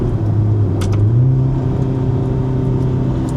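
A 2026 Ferrari V8 accelerates along a twisty road in Portugal; a loud, close engine note climbs in pitch with a steady rumble underneath, and no voices are heard.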